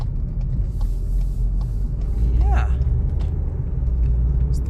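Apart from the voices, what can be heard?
2022 VW Polo R-Line 1.0 TSI driving in sport mode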